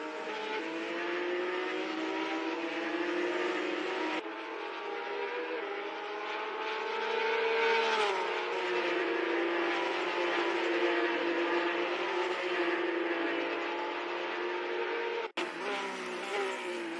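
Mustang race car engine in a virtual racing game, a loud sustained high-revving tone with rising and falling pitch through gear changes, running continuously with a brief cut near the end.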